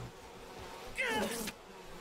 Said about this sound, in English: Bees, will you fuck off for like a second?